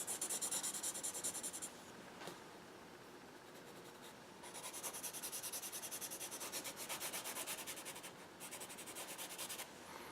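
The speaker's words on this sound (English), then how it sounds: "I'm going to get that in as quickly as I can just by really using the side of my pencil." Graphite pencil shaded across paper with the side of the lead to lay in a dark night sky for a winter landscape value study; steady, close scratchy rubbing strokes in continuous bursts with a brief pause, no talking.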